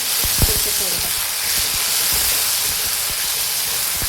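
Masala for a tomato dal cooks down in a pan with a steady, close sizzling hiss, dotted with occasional sharp pops and spatters, and no voices.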